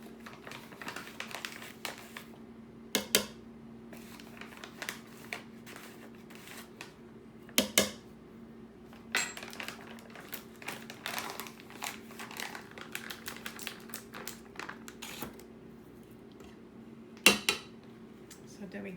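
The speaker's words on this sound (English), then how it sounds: "She's mixing up the dry ingredients." Spoon and bowl clinks and scrapes as dry banana bread ingredients, including flaxseed and baking soda, are mixed together. Soft rustling runs throughout, broken by a few sharper knocks near the start, in the middle and near the end, over a low steady hum.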